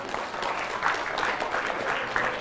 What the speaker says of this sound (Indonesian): Dari bunyi tepuk tangannya, tepuk tangan orang kepanasan.